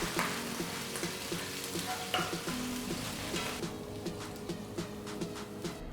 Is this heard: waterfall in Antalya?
no